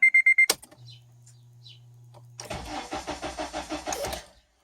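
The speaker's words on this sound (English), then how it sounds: "You hear the relay clicking over here." Relay on a Honda Element clicking during a failed start: a rapid series of about eight to ten sharp, evenly spaced clicks with buzzing, preceded by a key-fob chirp and a low steady hum, close and fairly loud.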